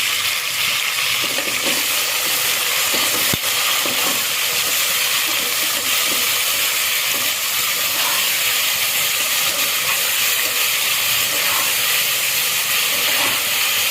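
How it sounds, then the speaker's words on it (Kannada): Tomatoes frying in a pan for a simple vegetable pulao give a steady, loud sizzling hiss that runs unbroken throughout, with a few faint scrapes and taps underneath and no talking. "ಸ್ವಲ್ಪ ಇದು ಫ್ರೈ ಆಗಲಿ ಟೊಮೊಟೊ"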